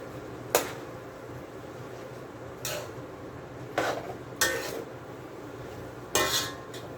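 Spoon stirring cabbage and chicken with Old Bay and oxtail seasoning in a cooking pot, a handful of scattered metallic clinks and scrapes against the pot over a faint background hum.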